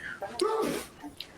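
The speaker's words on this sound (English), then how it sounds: "That's my wife sneezing." A woman sneezes once, sharp and close, with brief breathy sounds around it.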